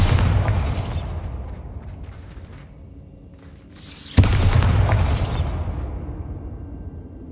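Bombarda spell blasts in Hogwarts Legacy, two booming explosions with whooshing rushes, the first fading into a quieter stretch before a sharp second bang hits and rolls away, loud and close.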